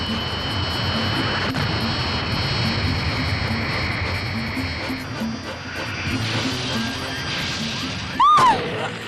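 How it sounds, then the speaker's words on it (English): Cartoon spacecraft engines starting up, a loud roaring jet-like rumble that builds and shifts, ending with a sharp crash and a bright rising-and-falling whistle, with no voices over it. "Careful! They're starting engines."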